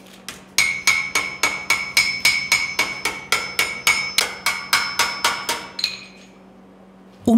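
A hammer strikes 1.5 mm steel sheet being forged into shoulder pieces for a Swiss Guard breastplate, ringing in a quick, even run of about twenty sharp metallic blows close by, then stopping.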